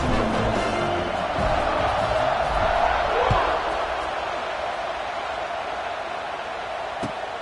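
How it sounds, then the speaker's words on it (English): A football stadium crowd roars as a steady wash of noise around a kickoff, with a louder swell early on and a few thuds, while a commentator talks over it. "this crowd now ready to get behind them"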